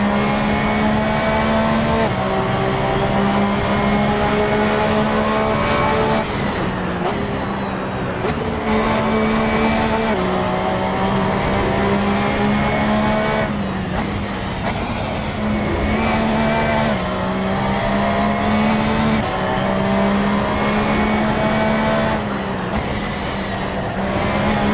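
A GT3 race car in the Assetto Corsa sim at Brands Hatch revs hard and steadily for the whole stretch, its engine drone rising and falling through gear changes. A voice murmurs faintly now and then.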